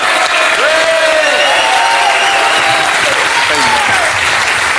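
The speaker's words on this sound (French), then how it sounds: "Il faut l'applaudir déjà parce que il faut l'applaudir." A TV studio audience on a French talk show breaks into loud, sustained applause, with voices talking and calling out over the clapping.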